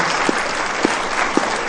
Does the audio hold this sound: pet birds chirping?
no